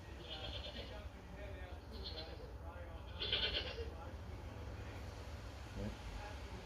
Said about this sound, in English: Here's a goat bleat.